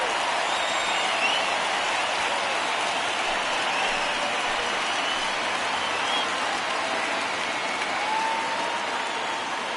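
Stadium crowd noise in the MLB The Show 19 baseball video game on a full 3-2 count, a steady, dense roar and clapping that holds evenly for about ten seconds.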